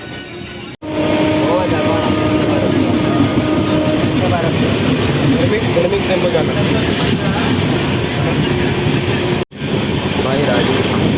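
Train at a railway station in Rajasthan, a steady loud rumble of rolling wagons and rail noise running throughout, briefly cut twice, with people talking over it.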